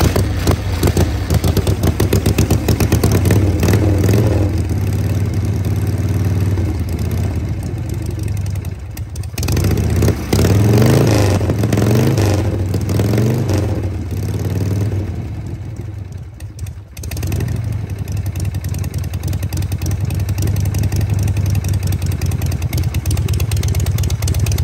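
A Harley-Davidson stroker motorcycle engine of 80 cubic inches with 9-to-1 compression, a loud, steady, close-up rumble that runs the whole time and rises in a few brief swells, with no talk over it.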